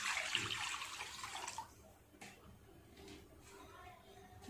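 Water pours into a cooking pot ready for boiling taro, a steady close splash that runs loud for about a second and a half, then gives way to quieter kitchen handling sounds.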